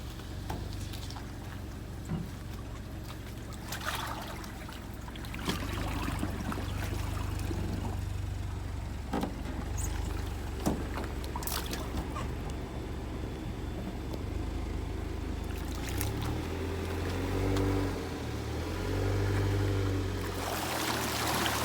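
A homemade boat motor built from a John Deere engine drones steadily on a flooded river during a speed run, with the continuous engine roar mixed with rushing water and wind noise throughout.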